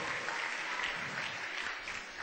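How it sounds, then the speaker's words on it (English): An audience applauds San Francisco Mayor Gavin Newsom at an event at City Hall, a steady, close wash of many hands clapping that lasts throughout without a break. "Will you all please give a big round of applause to our mayor, San Francisco Mayor Gavin Newsom."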